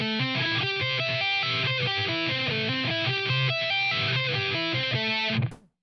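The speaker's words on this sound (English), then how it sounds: "if you don't mute with the picking hand and the fretting hand as much as you can, it'll sound something like this when you try and sweep pick" Unmuted guitar sweep picking, with a fast run of arpeggiated notes ringing into one another and droning over each other in a loud wash that cuts off abruptly at the end.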